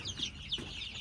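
Chickens cluck in short, soft bursts on a farm at feeding time, with a couple of brief higher calls over a faint steady background.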